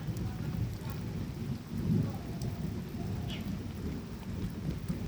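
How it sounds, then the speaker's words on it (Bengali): Heavy rain pouring down during a storm that has knocked over trees, a dense steady wash of rain with low rumbling thunder rolling underneath, a slightly louder swell near two seconds; no voices. "এখন বৃষ্টি হচ্ছে, ফিটির করে বৃষ্টি হচ্ছে"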